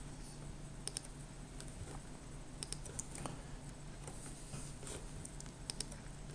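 Someone types on a computer keyboard, producing quiet, steady key clicks in a soft irregular patter with a few sharper taps, faint against a low room hum.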